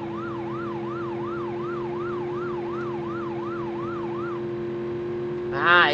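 A police siren in BeamNG.drive wails in a fast, repeating up-and-down pattern over a constant engine drone, then cuts off near the end.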